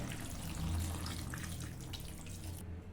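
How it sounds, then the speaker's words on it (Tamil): About 100 ml of water splashes and pours steadily into a pan of masala-coated chicken for a thick chicken kulambu, a close, continuous gush of liquid with no talking. "ஒரு 100 ml தண்ணி சேர்த்துக்கிடுவோம்."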